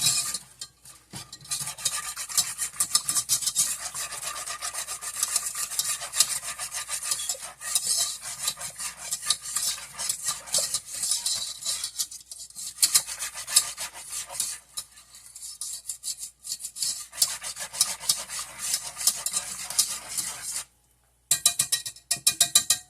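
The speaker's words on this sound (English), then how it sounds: "I want to use this whisk, so you want to mix that around really good" A whisk scrapes and stirs steadily through a vanilla custard mixture with scraped vanilla bean in a bowl, a close, continuous rhythmic swishing with brief pauses near the end.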